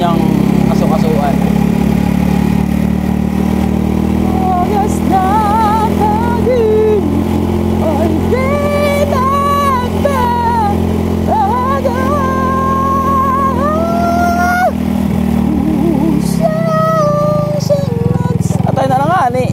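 A motorcycle engine labours up a hill with a continuous low, strained drone that wavers and drops toward the end, loud and close, while a voice talks over it.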